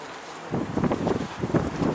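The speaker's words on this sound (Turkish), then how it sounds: "Rüzgar çok." Strong wind buffets the microphone in a low, rumbling roar that starts after a brief quiet moment and keeps gusting unevenly.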